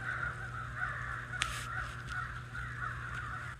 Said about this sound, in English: Listen to the crows.